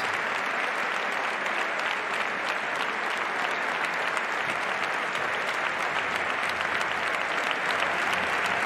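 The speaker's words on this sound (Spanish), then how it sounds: "Fuerte aplauso para Javier Imbroda." A large audience applauds steadily and densely for the former national basketball coach Javier Imbroda, a continuous wash of clapping with no talk over it.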